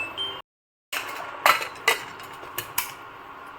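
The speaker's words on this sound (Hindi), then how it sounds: "अच्छे से चम्मच मिला के और फिर लगा देंगे हम ढक्कन" Several metallic clinks of a spoon against a pressure cooker while mixing eggplant and potato pulao, scattered and close, following a brief silence, with a light clatter like a lid being set down.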